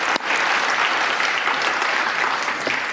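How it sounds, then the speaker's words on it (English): A crowd at a city tribute to Rev. Dr. Martin Luther King Jr. applauds all the participants, with loud, continuous, dense clapping that fills the room from start to finish. "Let's give all the participants another hand of applause."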